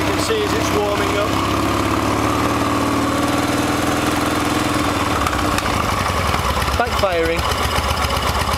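A Yamaha XS650 chopper's engine idles steadily as it warms up, a loud, close, continuous rumbling drone with brief voices toward the end.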